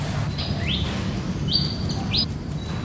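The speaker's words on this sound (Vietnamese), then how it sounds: "Các bạn nghe kỹ là nghe tiếng chim hót á." Birds sing in the early morning at a quarantine camp in Cu Chi, Vietnam, giving several clear chirping whistles over steady outdoor background noise.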